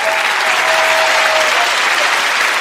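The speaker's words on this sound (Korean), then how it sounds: "박수!" Children at a daycare puppet show clapping together, a dense burst of applause that fills the short moment, loud and near.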